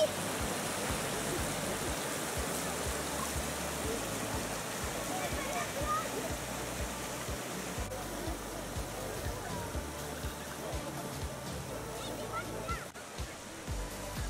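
Mountain torrent by a village and ski resort rushing steadily beside a footpath, a continuous broadband roar of water that holds at an even level throughout with no voices.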